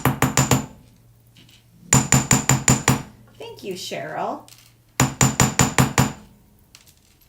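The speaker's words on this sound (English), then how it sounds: "Small hammer again" A small hammer strikes a metal jewelry star in three quick bursts of four to six sharp, bright taps, with a short stretch of talk between the second and third bursts.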